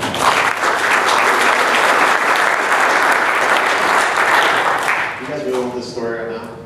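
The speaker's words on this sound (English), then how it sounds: "So give him a big round of applause." A large audience at a real estate investing talk claps in sustained, loud applause that fills the room, then tapers as a voice begins speaking near the end.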